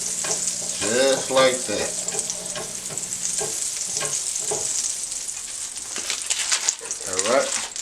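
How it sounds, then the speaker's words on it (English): A teaspoon of butter sizzles in a hot pan with a bright, steady hiss that swells in spots. Being prepared for Cajun shrimp pappardelle, it crackles close and continuous beneath brief spoken words. "Then I'm going to put like a teaspoon of this butter in there."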